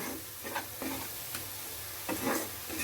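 Fried prawns are stirred in a hot pan for a Bengali potoler dorma, with a steady oily sizzle under repeated scraping strokes of a spatula, close up and with no voices.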